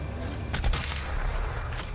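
A burst of Doom Eternal gunfire, a quick cluster of sharp shots with a booming low end over steady game noise.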